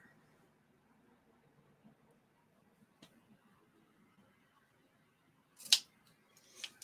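Small scissors snipping fabric near a seam while sewing a pin cushion, a faint quiet stretch broken by a couple of soft ticks and then one sharp close clip, followed by a lighter second snip.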